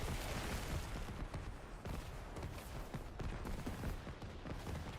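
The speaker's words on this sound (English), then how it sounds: "Artillery." Dense, continuous barrage of booming artillery-style blasts in Diablo IV, loud and layered with rapid overlapping impacts throughout, no clear pauses between hits.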